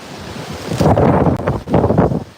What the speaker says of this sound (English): another big wind gust